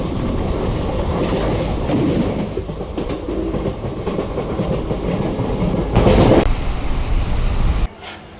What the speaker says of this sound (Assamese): এই ট্ৰেইনখন হৈছে 15665 BG এক্সপ্ৰেছ ট্ৰেইন